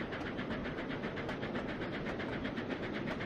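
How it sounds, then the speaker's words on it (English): A K4 steam locomotive in the Trainz 2019 railway simulation game runs with a steady rhythmic chuffing and rumble, even and continuous throughout, with no voices. "The old K4 steam engine."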